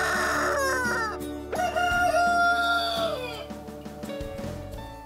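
Hens and roosters in an unheated poultry house on a free-range egg farm, with a rooster crowing loudly and close over a steady background of clucking fowl.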